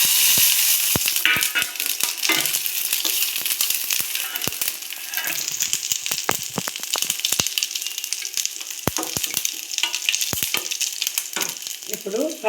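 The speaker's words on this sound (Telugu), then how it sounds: "అండి ఇప్పుడు తాలింపు గింజలు వేసుకున్నాము." Tempering seeds fry in hot oil on a stove for an okra curry, a close, continuous sizzle peppered with sharp crackles and pops, with no voices.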